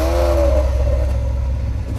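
A Lamborghini Aventador's 690 bhp engine howls under hard acceleration, a loud sustained rising tone over a rumbling low end that fades slightly toward the end.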